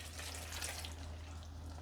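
Water runs steadily into a pot of about three and a half kilograms of cherries being cooked for syrup, a continuous soft pouring hiss with no talk.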